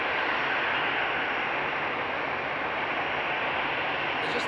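Steady idle of a Lufthansa Airbus A340's jet engines at Frankfurt Airport on a winter morning, a constant broad roar and whine with no change in pitch or loudness, moderately close.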